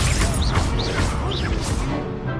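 Hogwarts Legacy's Incendio fire spell goes off in a duel with a burst of whooshing, crackling fire and impact noise, loud and close, mixed with rising magical swooshes in a busy game fight.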